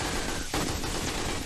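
Automated turrets firing in 7 Days to Die during a horde night at an electrified killing corridor: a brief, steady burst of rapid gunfire, loud and continuous.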